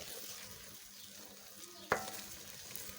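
A spoon stirs eggs as they cook in a pan, with a quiet, steady sizzle underneath and a single sharp clink of metal against the pan partway through.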